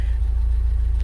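BMW E30 Touring Designo Edition idling, a loud, steady low rumble close up with no change in pitch over a brief moment.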